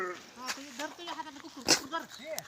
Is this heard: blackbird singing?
no